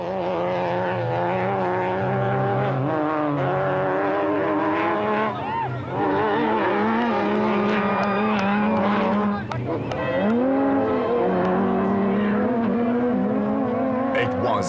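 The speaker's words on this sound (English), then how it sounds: "there were times when the 2 Castrol Toyotas were racing almost side by side" Castrol Toyota race cars running almost side by side in the Carnival City 400 race, engines droning loudly and continuously with shifting pitch, over a crowd or commentary background.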